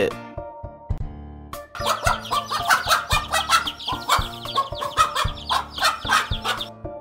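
A hen facing off a snake in an Australian wildlife park clucks in quick, agitated bursts, loud and close, repeating rhythmically over a low steady hum.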